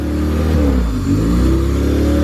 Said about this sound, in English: the car fucking fired over